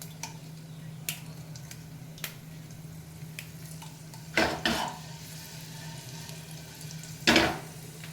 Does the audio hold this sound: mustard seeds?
yes